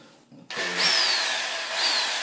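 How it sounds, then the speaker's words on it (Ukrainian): A Makita 800 W electric drill starts up and runs steadily at close range, its high motor whine rising and falling slightly in pitch as the speed shifts. "знайшов інструмент дрелька Макіта на 800 Вт"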